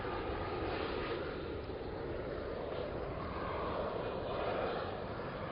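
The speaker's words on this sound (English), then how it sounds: "Here's another plane." An airplane passes overhead, a steady broad roar filling the whole stretch at a constant level, heard outdoors with no talk over it.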